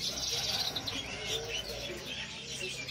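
Songbirds chirp and tweet continuously at the Pramuka bird market, a dense layer of bright, close calls over a low market murmur.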